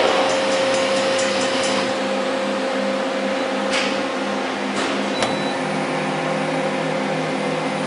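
An Okuma Cadet L1420 CNC lathe spindle runs with a steady mechanical whine and fan-like hum, loud and close, with a few brief clicks and ticks over the drone.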